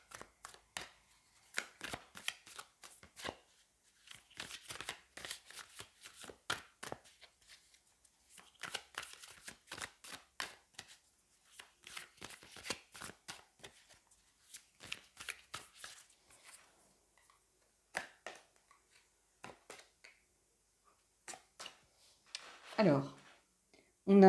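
Tarot cards are shuffled by hand in repeated short riffling bursts with pauses in between, close and fairly quiet, with occasional soft speech.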